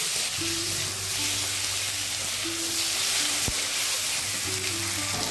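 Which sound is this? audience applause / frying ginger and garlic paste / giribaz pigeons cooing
frying ginger and garlic paste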